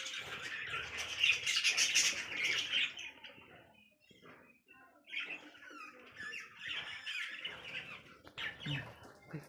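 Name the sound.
lovebirds and their chicks squawking in clay pot nest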